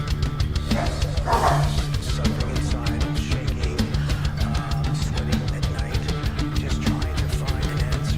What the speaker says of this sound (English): Guess the dogs like it too.